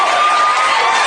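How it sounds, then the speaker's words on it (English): A television studio audience cheers and whoops at a late-night show, one short, loud, dense burst of crowd noise. "And people cheer it."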